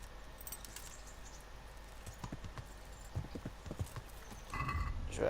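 Horse hooves clip-clopping in Kingdom Come: Deliverance, sparse steps that speed up toward the end, joined by a rising rush of movement noise.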